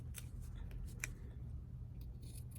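Scissors snip a few quick cuts trimming a ribbon bow on a handmade Christmas card, faint and close with short crisp clicks over a low background hum.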